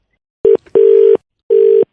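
A telephone line gives a loud, steady tone in three separate bursts, one short and two longer, with silent gaps between them and no voices.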